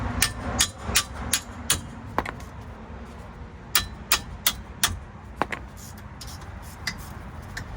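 Sharp metallic hammer strikes on a Ford Taurus rear wheel hub, a rapid run of about five blows, a pause, then another burst of five or six and a few scattered hits, close and loud over low garage rumble.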